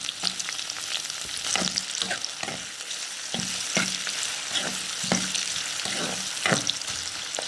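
Ridge gourd frying in a pan with onions, curry leaves and dried red chillies, giving a continuous bright sizzle punctuated by regular scraping stirs of a ladle, close up and with no one talking.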